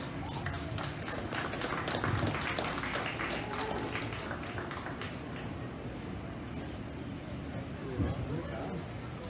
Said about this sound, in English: Let's give this young man a big round of applause